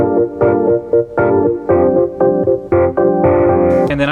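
Electric piano layered with a Prophet organ synth pad plays a sequence of sustained chords, each swelling and cutting off in a steady rhythmic pattern, loud and close with no voices.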